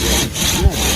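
A hand saw cuts through wood, rasping back-and-forth strokes loud and close in steady rhythm, with no voices.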